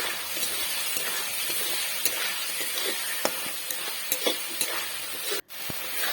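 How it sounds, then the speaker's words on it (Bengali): Spice mixture for a bhetki fish head curry stir-fried in oil, a dense continuous sizzle with occasional clicks of a spoon against the pan, one brief pause near the end. "আবারও সবগুলি ভালোভাবে কষে নিচ্ছি"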